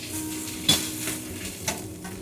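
Pork and mushrooms sizzle as they stir-fry in a pan, with a steady low crackle and two sharp clatters of a utensil flipping the food, close and quiet.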